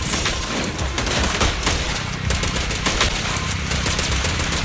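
Rapid, continuous gunfire from a Zenless Zone Zero combat scene, a dense fusillade of loud machine-gun shots rattling steadily without pause for the whole stretch.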